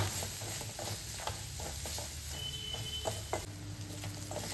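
Soft stirring of cumin powder and garam masala in a frying pan over a faint low-heat sizzle, with occasional clinks, fairly quiet and close.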